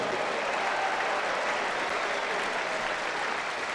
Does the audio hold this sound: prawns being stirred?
no